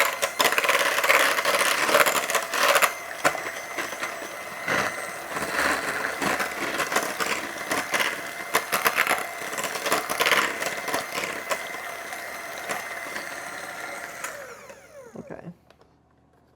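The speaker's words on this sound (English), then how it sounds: "And now I think I'm going to use a hand mixer a little bit." An electric hand mixer whirs steadily as it smooths no-bake cheesecake filling in a bowl, its motor droning with rattling beater scrapes for about fourteen seconds before cutting off, with a brief spoken word over it.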